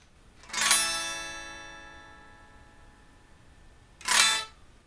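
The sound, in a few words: guitar chord recorded with microphone only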